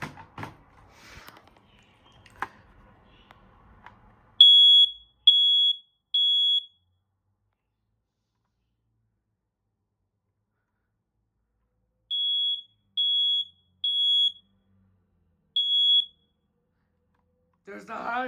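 Home smoke alarm under test gives two runs of shrill, evenly spaced electronic beeps, three in the first burst and four in the second, separated by silence, with faint handling noise and a voice at the start and end.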